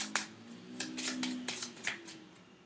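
Cards shuffled by hand for a card reading, a quiet run of soft riffling flicks and slaps in uneven bursts, close and faint, with no talk.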